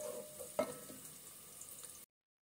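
Onion fries in a pan for mash daal, a faint, steady sizzle with one brief stirring knock, before the sound cuts off abruptly.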